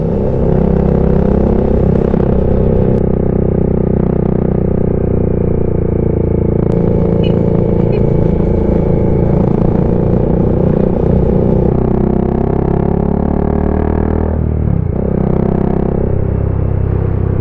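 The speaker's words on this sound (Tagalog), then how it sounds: "mga motor oh" Steady, loud roar of motorcycle engines passing close by on a Sierra Madre mountain road, with rumbling and revving throughout and a brief dip near the end.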